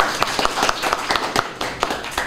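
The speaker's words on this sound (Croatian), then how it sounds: "Ajmo aplauz za djecu." Applause for children at a history quiz prize ceremony in Zenica, a patter of scattered hand claps from a modest group, fairly close and steady.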